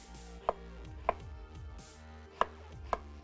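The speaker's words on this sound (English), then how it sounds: "So we've got 3 garlic cloves here for the stock. So we're only going to do a rough chop." A knife rough-chops garlic cloves on a cutting board while stock for beef stroganoff is prepared: four sharp, distinct knife strikes at uneven intervals, close up over a faint background, with nobody speaking.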